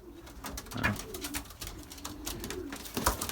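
Pigeons in a loft cooing softly and repeatedly, low rolling calls close by over a faint background of shuffling and small knocks, without speech.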